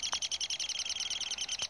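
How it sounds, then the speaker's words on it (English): Rapid, repeated high chirping calls from baby woodpeckers, fairly close and continuous, with a couple of brief sharper notes breaking through. "Baby woodpecker's in there."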